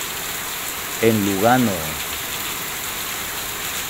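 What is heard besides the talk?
heavy rain falling in Lugano, Italy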